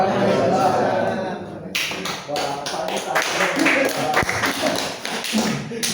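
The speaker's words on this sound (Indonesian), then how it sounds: "Tepuk tangan." Audience applause in a mosque during a public speaking training session, a dense patter of clapping hands that rises abruptly and continues steadily, fairly close, with scattered thumps mixed in.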